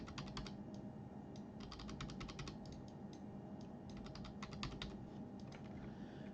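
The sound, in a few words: typing on computer keyboard arrow keys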